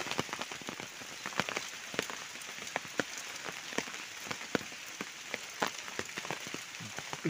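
Steady rain patters onto surfaces, a dense hiss broken by frequent sharp drop hits, with no voices.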